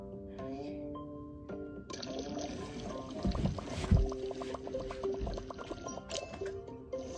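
Water pours and gurgles in the puzzle video game Feed Me Oil 2, soft splashing and trickling under bright, plinking game music, with a brief louder splash midway.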